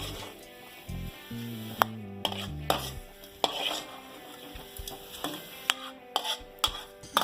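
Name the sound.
stirring fish curry masala in a pan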